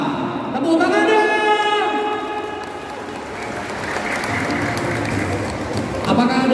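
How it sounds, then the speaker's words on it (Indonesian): An audience applauds at a badminton exhibition match, a steady wash of clapping from a crowd that carries on for several seconds under an announcer's voice and some crowd noise. "Tepuk tangan deh."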